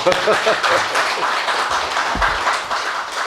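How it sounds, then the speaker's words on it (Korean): Audience applause at a Korean academic presentation, a scattered patter of clapping with a few louder individual claps and some low murmuring mixed in. "박수 한번 치셔야죠"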